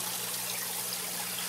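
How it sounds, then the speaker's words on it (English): Steady splashing of water pumped up through a tube in an aquaponics tank and showering back down to aerate it, a continuous close trickle and patter with a low hum underneath and no talking. "it pumps the water up through the tube, and then it showers down in order to keep the water aerated here on both sides"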